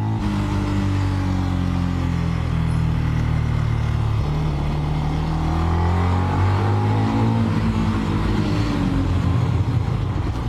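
Benelli BN 125 motorcycle engine revving hard while riding, a loud continuous drone that climbs and falls in pitch through the gears, with no talk over it.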